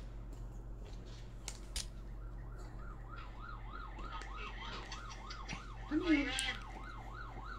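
A police siren wails in steady repeating sweeps, passing at moderate distance behind a card game of tong-its, while a voice speaks briefly over a low constant hum.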